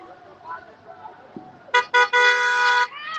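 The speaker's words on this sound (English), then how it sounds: "Honk your horn for black lives." Two short car horn toots followed by a long sustained honk, loud and close, with faint voices and traffic murmur beforehand, at a youth street march in Louisville, Kentucky.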